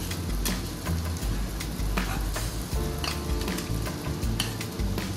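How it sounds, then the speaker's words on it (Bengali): Eggplant and raw egg stir-frying together in a pan, with a steady close sizzle and a crackling hiss broken by repeated spatula scrapes and stirring. "এখানে একসাথে অ্যাড করে এটাকে মিক্স করবো।"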